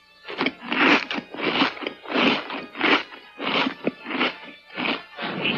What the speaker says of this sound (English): You don't mind if I snack, do you?